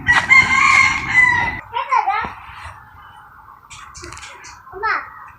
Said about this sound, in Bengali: এখন দুপুরের খাবার দিতে হবে হাঁস মুরগিদের।